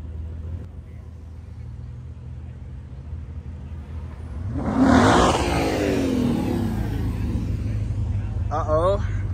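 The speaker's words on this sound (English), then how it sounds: "Sound like he bouncing on a rev limiter" A car at a street car meet revs hard, its engine rising into a loud sustained roar and bouncing off the rev limiter, while someone talks close by over the idling and revving.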